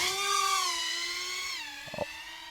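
DeepSpace Seeker35 FPV drone motors scream while lifting a load, a loud, high-pitched harmonic whine that holds steady and then dips slightly in pitch, with a few brief knocks near the end.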